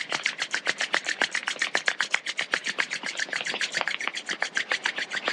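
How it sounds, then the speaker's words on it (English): Two palms rubbed briskly together for warmth during a quiet meditation, a steady run of quick, close, dry swishing strokes in even rhythm with no talking. "bring your hands together in front of you and rub them to generate a little bit of warmth"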